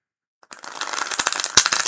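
Tarot cards being shuffled close to the microphone after a brief silence, a quick run of crisp riffling clicks and papery flutters building in loudness, with no talking.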